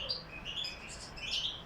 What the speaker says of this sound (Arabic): الطير عم تزق الافراخ اذا عم تبين عندكم.